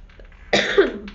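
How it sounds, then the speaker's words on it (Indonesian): A single harsh cough, close and loud, follows a brief soft murmur. "Maaf ya, ibu batuk"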